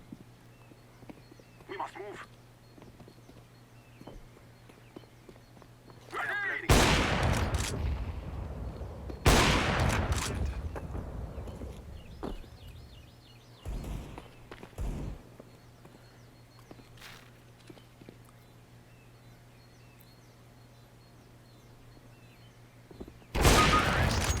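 Counter-Strike: Global Offensive gunfire comes in several sharp, loud bursts spread across the stretch, with quieter in-game footsteps and ambience between them and someone commentating over it.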